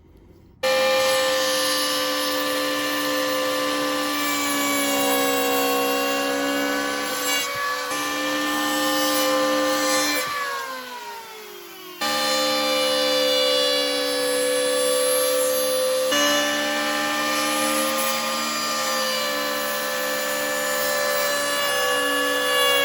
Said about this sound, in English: you place it on the corner edge of the wood like that. And then you push it along to plane those edges.